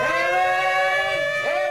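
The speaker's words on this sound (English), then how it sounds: "The sound of the air raid siren was a warning that German planes were nearby" A loud wailing World War II air raid siren holds a steady harmonic tone, then its pitch sags and swoops back up near the end, sounding alone without any talk.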